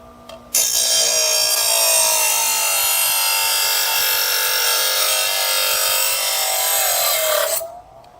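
A cheap bench grinder grinds a steel mower blade, giving a loud continuous bright hiss and rasp that starts abruptly, holds steady for about seven seconds and then stops.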